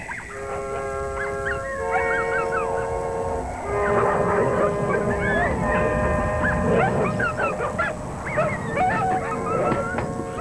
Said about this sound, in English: Dogs are noisy